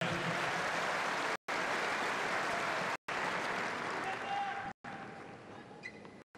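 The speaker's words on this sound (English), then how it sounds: "Applause from Djokovic on that one." During a tennis match between Djokovic and Tomic, applause rolls through the stadium at a moderate level with a few abrupt cuts, while a commentator's voice is faintly present beneath it.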